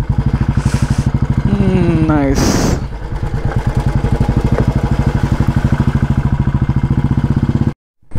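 A motorcycle ridden along a muddy road near Mathur in South India chugs with a steady, close engine pulse that rises and falls through gear changes, a brief voice speaking over it before the sound cuts off near the end.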